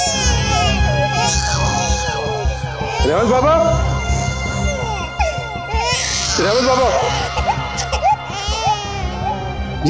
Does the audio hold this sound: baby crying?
yes